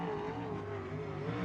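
A USAC sprint car powers out of a corner close to the wall at Kokomo Speedway, its engine a loud, continuous roar with a steady, slightly rising pitch and no talk over it.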